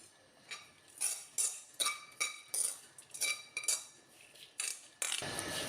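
Metal spoon clinking and scraping against a pan while stirring jackfruit erissery, a Kerala curry, in a steady series of about a dozen sharp clinks, close and fairly quiet, with no talking.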